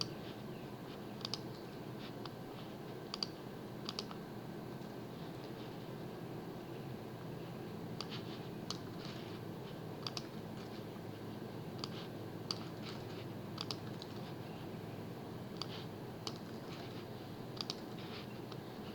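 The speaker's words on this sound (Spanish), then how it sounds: "Voy a hacer clic." Computer keyboard typing and mouse clicks, rendered as a steady series of sharp, close clicks spread across the stretch over a constant low background hum, with no voices.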